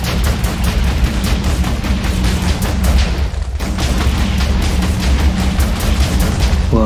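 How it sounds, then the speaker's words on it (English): A Minecraft mod assault rifle switched to automatic fire gives rapid, continuous bursts of booming shots. The heavy loud rattle carries on almost unbroken, with a brief dip near the middle. "me making the assault rifle into an automatic weapon"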